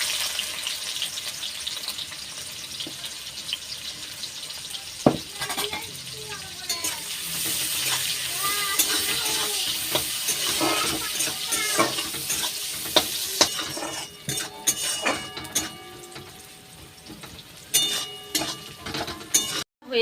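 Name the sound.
frying onions (beresta) for egg biryani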